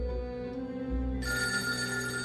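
A telephone bell rings in a dramatized account of an intruder attack in Monaco, a sustained bright electronic trill that swells louder partway through, with no talking over it.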